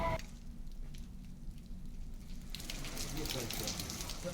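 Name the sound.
rain falling in Ayodhya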